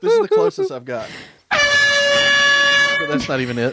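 A person imitates a train whistle with their voice, holding one long, loud, steady horn-like tone for about a second and a half. Talking comes before and after it.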